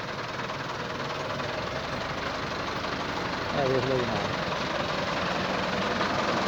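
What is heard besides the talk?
Massey Ferguson 385 tractor engine running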